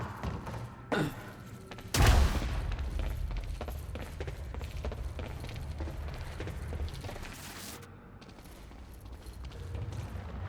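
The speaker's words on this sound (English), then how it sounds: "Fireworks." Fireworks crackle and boom in the video game Quantum Break, with a sharp loud burst early on followed by a dense, continuous barrage of thumps and crackles.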